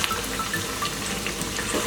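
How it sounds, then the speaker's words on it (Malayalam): Bread tikki frying in oil over a medium-low flame gives a steady, close sizzle and crackle, continuous and fairly loud with no pauses. "മീഡിയം ടു ലോ ഫ്ലെയിമിൽ വെച്ച് വേണം ഇത് ഫ്രൈ ചെയ്തെടുക്കാൻ"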